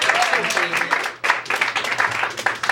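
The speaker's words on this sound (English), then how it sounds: "Can we have a big round of applause for all the acts that came up on stage?" An audience at a comedy and magic show applauds for the stage acts, in uneven bursts of clapping with a brief lull before it swells again. A voice carries on over the clapping.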